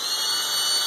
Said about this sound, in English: Pull it out and turn the grinder on.